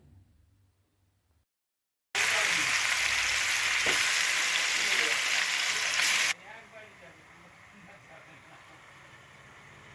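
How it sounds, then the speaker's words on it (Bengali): 2 kg of spice-marinated chicken for biryani drops into a hot pot with a loud, sudden sizzle that roars for about four seconds, then settles into a softer, steady frying hiss. "এই মশলা মাখানো মাংসটা আমি দিয়ে দিলাম"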